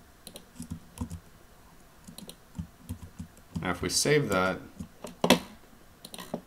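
Typing on a computer keyboard while editing code, light rapid key clicks in short bursts, close and fairly soft, with a person talking over part of it.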